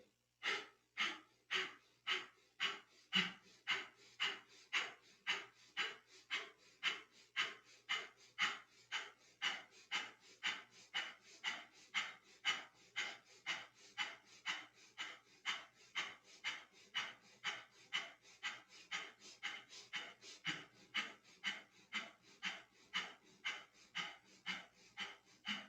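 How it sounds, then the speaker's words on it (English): Rapid breath of fire in a Kundalini yoga kriya, forceful nasal breathing in a steady fast rhythm of about one and a half breaths per second, close and sustained throughout with no talking. "and begin breath of fire."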